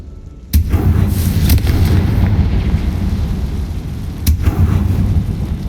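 A Confringo blasting spell explodes in Hogwarts Legacy with a sharp, loud burst and heavy rumbling, followed by a second blast a few seconds later.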